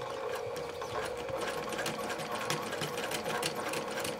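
Sewing machine stitching fabric for a small gift bag, running steadily and close up with a fast, even mechanical rattle for the whole stretch and no talking.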